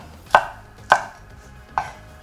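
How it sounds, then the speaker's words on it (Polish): Three sharp knife chops through bell pepper on a cutting board, spaced unevenly about half a second apart, close and distinct with quiet between them. "paprykę kroimy sobie w drobniejszą kostkę"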